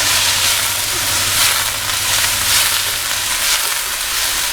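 Salt and chilli chips frying in a hot wok, a steady loud sizzle with crackling hiss that continues unbroken throughout, no talking.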